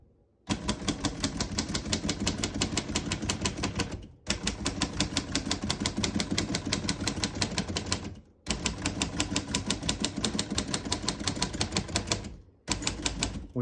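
Rapid, steady keystrokes on a 1938 O Model vintage portable typewriter, close and crisp, in three long bursts separated by brief pauses.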